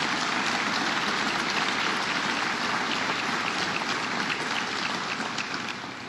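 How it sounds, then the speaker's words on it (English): Sustained audience applause at a state funding announcement in Canandaigua, dense and steady throughout before tapering slightly at the end, with no talking over it. "So let's give Dr. Sanz a round of applause."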